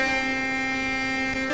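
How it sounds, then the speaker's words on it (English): A sustained single-tone horn blast from a Class 415 electric train in a train simulator, steady and loud, running for the whole short stretch with no talking. "Let's hear the horn."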